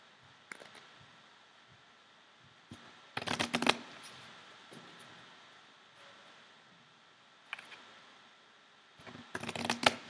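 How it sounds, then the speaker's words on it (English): A deck of playing cards is shuffled at close range in short riffling bursts, separated by quiet pauses with faint handling rustles. "you're going to start by shuffling the cards"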